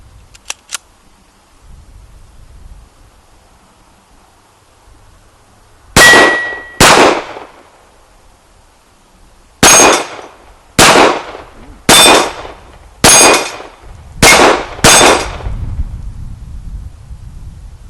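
Shots from an H&K USP pistol ring out against steel targets, eight sharp loud cracks with metallic clangs, spaced irregularly, two then a quicker string of six, with quiet outdoor background between them.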